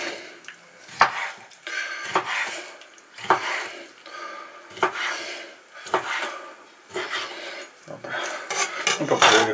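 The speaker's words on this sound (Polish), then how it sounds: "Kroimy kulczaka sobie w paseczki." A knife cuts chicken into strips on a board, making a series of short scraping, rasping strokes at an uneven rhythm, close and fairly quiet, with light clinks of kitchenware between them.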